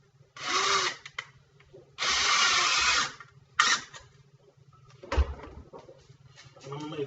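Power drill driving a couple of screws into wood for a homemade rifle stock cradle, two sustained whirring bursts about a second each, then a shorter third burst, with clunks of handling between.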